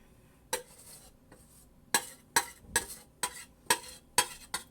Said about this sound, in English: So you just put your meringue on top, and then you just kind of spread it to the edges.